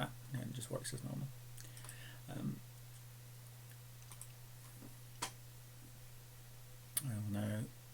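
Scattered computer keyboard clicks and a few typing taps at a server console, sparse and fairly soft, with a man's speech in short stretches at the start and end over a steady hum.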